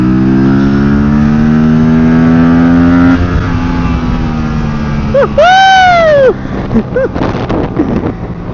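An Aprilia RS 457 motorcycle engine in sport mode drones steadily, then revs hard in a sharp rising-and-falling burst before settling into choppy throttle blips, close and loud.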